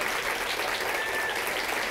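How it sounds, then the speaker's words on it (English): Audience applause at a live variety show taping, a steady, dense wash of clapping that stays even and fairly close throughout, with no voices over it. "Give Darcy a good round of applause."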